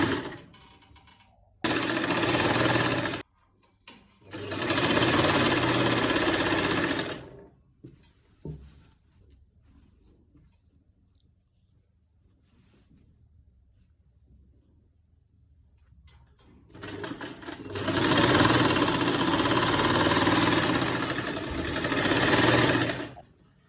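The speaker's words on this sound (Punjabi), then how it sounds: "ਇੱਥੋਂ ਆਪਾਂ ਇੱਧਰ ਨੂੰ ਸਲਾਈ ਮਾਰਨੀ ਸ਼ੁਰੂ ਕਰਨੀ ਹੈ" An electric sewing machine stitches pleats into a salwar in two loud, close bursts of rapid mechanical whirring, separated by a long quiet stretch with faint handling clicks.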